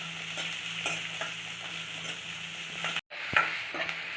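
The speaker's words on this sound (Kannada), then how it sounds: "ಒಂದು ಮೀಡಿಯಮ್ ಸೈಜ್ ಈರುಳ್ಳಿ ಒಂದು ಹತ್ತಷ್ಟು ಬೆಳ್ಳುಳ್ಳಿ ಇದನ್ನು ಎಣ್ಣೆಯಲ್ಲಿ ಒಂದು ನಿಮಿಷ ಚೆನ್ನಾಗಿ ಫ್ರೈ ಮಾಡ್ಕೋಬೇಕು" A medium onion and about ten garlic cloves fry in oil, a soft steady sizzle with light stirring scrapes, a sudden short dropout, then a louder clink of the spatula as frying continues.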